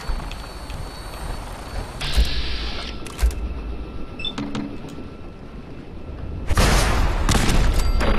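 A missile launcher fires and explosions go off in Fallout 4. Loud bursts and thuds arrive in irregular clusters, followed by a long, dense roaring blast near the end.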